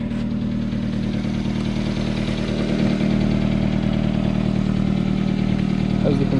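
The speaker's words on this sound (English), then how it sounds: "Got an exhaust leak." A car engine idles steadily with a low, rough rumble and a faint ticking puff from an exhaust leak, continuous throughout.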